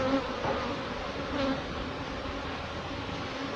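Honey bees buzz around an open hive in a Jamaican apiary during late-spring hive management, a dense, steady drone close by with a few louder passes of individual bees. No one talks.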